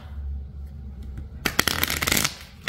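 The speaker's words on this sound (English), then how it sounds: "I'm gonna shuffle them one more time." Affirmation cards being shuffled by hand, a quiet pause giving way to a close burst of crisp riffling and flapping slaps that builds and then fades.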